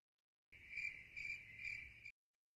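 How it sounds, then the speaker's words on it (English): A cricket chirps in four evenly spaced, shrill trills, close and steady, alone over silence as an inserted sound effect. "Crickets."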